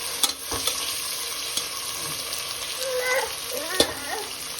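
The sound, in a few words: onions frying in pan for vegetable pulao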